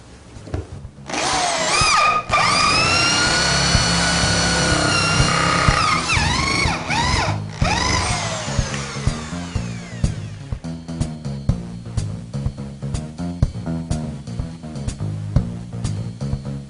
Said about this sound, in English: we'll just go along and drill all the rest of these holes